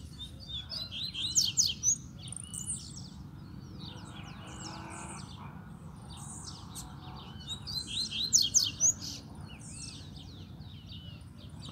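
A caged coleiro seedeater sings in two bursts of rapid, high, twittering phrases, fairly close, over a steady low background rumble like distant traffic.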